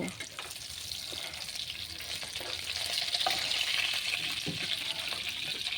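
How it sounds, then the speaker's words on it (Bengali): Rohu fish belly pieces fry in mustard oil with a steady, close hiss and crackle that swells slightly midway, punctuated by a few soft scrapes of a utensil. "মাছ ভালো করে ভেজে নিয়েছি, এবার উঠিয়ে নিচ্ছি।"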